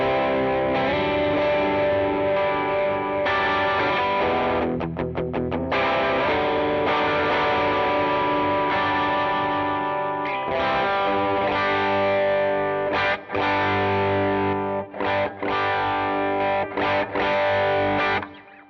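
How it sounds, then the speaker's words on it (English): Electric guitar driven by a TC Spark boost into a Notaklon overdrive on a worship pedalboard, playing dense, dirty sustained chords and riffs with a few sharp stops near the end, loud and alone. "So we get a little bit of a dirtier sound when that boost is pushing into the Notaklon."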